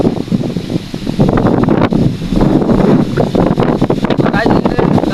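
A strong night wind blows outdoors near trees as rain begins, making a loud, constant roar that buffets the microphone in gusts, with rustling through it and muffled voices underneath.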